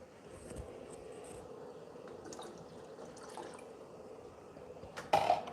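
Water from a one-cup measure trickles and drips into vinegar in a jar for pickling eggs, a faint steady liquid patter ending in a brief louder splash, no voices.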